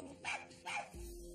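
Dog barking in a home setting: two loud, close barks a fraction of a second apart, then a steady low hum with no voices.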